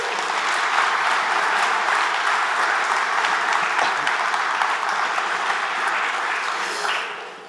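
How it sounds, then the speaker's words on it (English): Conference crowd at Codegarden 2019 applauds a team with full, steady clapping that holds for several seconds, then thins and fades near the end, with faint whoops mixed in. "Big applause."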